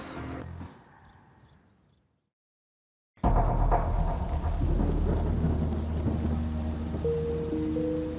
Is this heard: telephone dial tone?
no